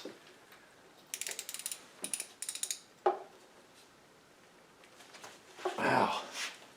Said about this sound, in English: So I got it on my extension, the ratchet.